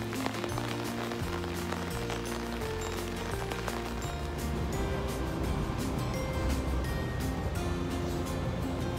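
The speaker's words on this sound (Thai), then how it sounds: "วันนี้ฝนตก" Rain falling on a flooded street, a constant dense patter and splash of water with low rumbling and faint musical tones in the background.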